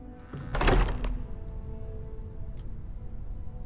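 A door opening in the space game Starfield, with a single heavy thunk and a short mechanical burst near the start, fading into a low steady ambient hum with a faint tick later on.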